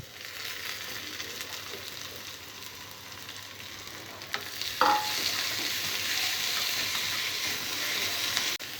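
Fenugreek leaves and onions with curry leaves frying in a pan, a steady broadband sizzle with occasional stirring scrapes and one brief tonal clink, close and continuous throughout.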